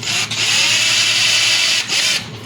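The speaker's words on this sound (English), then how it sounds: "So drill a hole here, just a little one" A power drill whirs loudly and steadily drilling a small 3/32 inch guide hole in a 3D print, briefly easing off, then spinning again through a short second burst.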